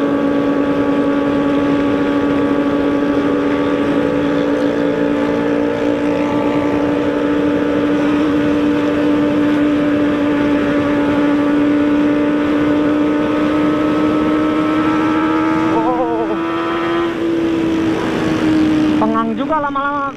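A Jupiter MX300 motorcycle ridden through empty Jakarta streets at night gives a loud, steady droning engine and exhaust note with wind rush, its pitch wavering and revving near the end.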